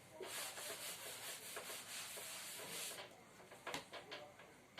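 A drawing of ray diagrams is erased from a classroom board with quick rhythmic back-and-forth rubbing strokes, faint and close, ending in a few sharper scuffs and taps.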